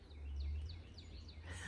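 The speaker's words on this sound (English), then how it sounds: "Do you hear the birds?" Birds chirp with short repeated calls at a snowy outdoor homestead, fairly faint against a low steady rumble, with a brief brighter burst near the end.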